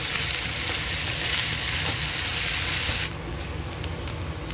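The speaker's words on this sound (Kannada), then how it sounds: "ಈಗ ನಾನು ಈರುಳ್ಳಿ ಹಾಕ್ತಾ ಇದ್ದೀನಿ. ಅದ್ರ ಜೊತೆಗೆ ಹಸಿರು ಮೆಣಸಿನ್ಕಾಯಿ, ಒಂದು ಸ್ವಲ್ಪ ಕರಿಬೇವು ಹಾಕಿದ್ದೀನಿ." Onions, green chillies and curry leaves fry in a pan with a steady, close hiss and sizzle that drops to a quieter crackle near the end, no talking.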